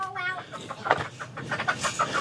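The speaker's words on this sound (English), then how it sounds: "That's a chicken. That's a hen." A young hen clucks close by in a series of short, rapid clucks and squawks at a farm, with people talking nearby.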